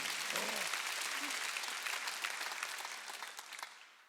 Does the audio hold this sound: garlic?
no